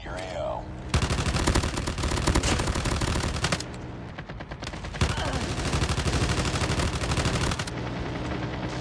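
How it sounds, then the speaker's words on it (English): Rapid sustained automatic fire from a pistol sentry gun in COD Mobile, two long dense bursts of loud crackling shots with a brief lull between them, game voice chatter mixed in. "Pistol sentry gun in your AO."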